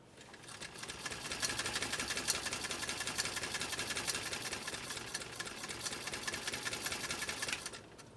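A 1925 Singer 128 sewing machine runs with a slipping belt, giving a steady, dense mechanical whirr and rapid clatter for about seven seconds before stopping.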